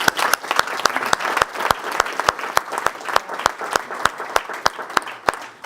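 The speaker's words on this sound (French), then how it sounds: "on peut les applaudir" Audience applauding a junior strategic committee at an entrepreneurship event, with distinct individual claps standing out in a fairly sparse, rhythmic patter that stays steady throughout.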